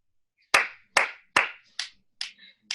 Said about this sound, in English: I need you to clap your hands 3 times and snap 3 times